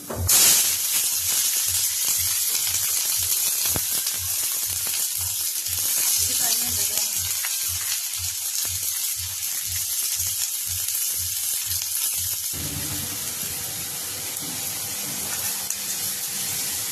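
Mustard seeds sizzle and pop in hot oil while a soursop thoran is cooked, a steady loud hiss with rapid regular crackles throughout and a louder burst of frying near the end.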